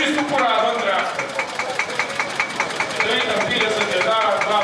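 A well-worn old tractor idles at a vintage tractor show in Jable, its engine chugging in a steady, even knock just nearby, with voices talking over it.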